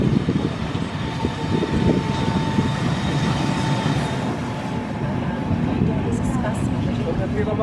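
Pacific steam locomotive 01 180 shunts around its train, giving a loud, continuous low rumble of rolling rail wheels with a faint squeal near the end. A voice speaks over part of it.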